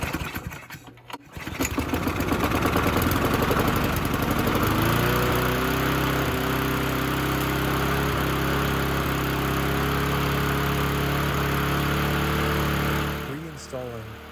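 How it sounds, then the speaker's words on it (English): A small walk-behind lawn mower engine sputters after a brief start attempt, then catches and runs at a steady, loud drone with a constant low hum for about ten seconds before cutting out. "This is just so I can start the mower in this case."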